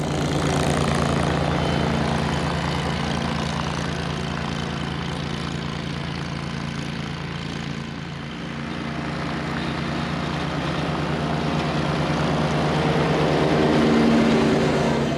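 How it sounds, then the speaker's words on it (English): Ventrac tractor engine running steadily while mowing, a loud continuous drone with strong low harmonics, dipping briefly midway before rising again, with no voices. "let me get the tractor going. I'll get you some video of it mowing"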